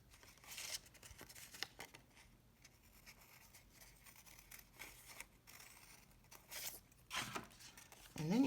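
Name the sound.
cutting paper heart with scissors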